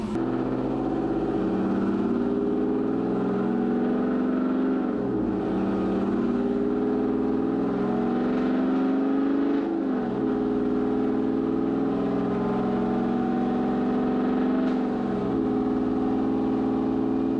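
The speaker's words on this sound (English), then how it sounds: "this Yukon Denali XL has a stage 2 cam, Magnuson 2300, and full exhaust as you can hear" A GMC Yukon Denali XL V8 with a stage 2 cam, Magnuson 2300 supercharger and full exhaust revs hard and loud on a dyno, climbing in pitch in three long sweeps, each ending in a brief drop before rising again.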